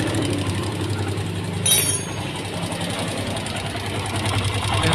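A Yamaha Byson motorcycle engine runs steadily nearby with a rapid mechanical ticking from the valve tappets, holding a constant tone throughout with a brief higher-pitched squeal partway through.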